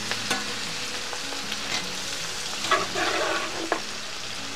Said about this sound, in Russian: обжариваем лук